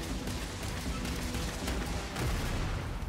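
An explosion in the Starfield video game trailer, with a dense, roaring burst of blasts and crackling debris that swells louder partway through and stays continuous.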